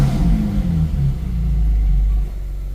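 Ferrari F458 V8 engine catches and revs briefly, settling into a deep, close rumbling idle, loud and alone without talk.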